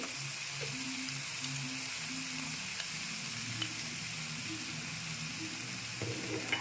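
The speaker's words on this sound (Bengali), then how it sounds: "মশলাটাকে আরও এক মিনিট নেড়ে চেড়ে কষিয়ে নিচ্ছি" Spice masala with turmeric and salt being stirred and sautéed in a pan for khoira fish curry, a faint steady sizzle and hiss with a low hum underneath and a few soft stirring knocks.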